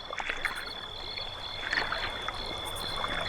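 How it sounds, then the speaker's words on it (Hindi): A small boat is rowed across a misty river, its water lapping and swishing softly with light oar strokes and trickles, close and continuous, with no talking. "रतन की छोटी सी नाव नदी के उस पार चल रही है।"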